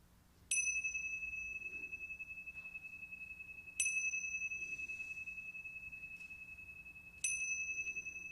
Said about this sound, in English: So I'll begin just with the bell.